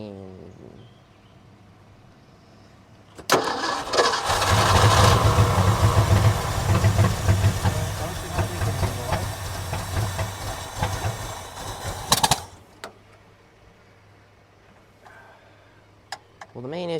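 A 1965 Ford F350 with a 352 FE V8 cranks and fires, then runs at a loud rough idle for several seconds before shutting off, with voices talking nearby before and after.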